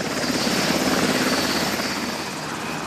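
An Israeli Air Force Black Hawk search-and-rescue helicopter roars steadily nearby, its dense rotor chop and turbine noise sustained and loud without pause.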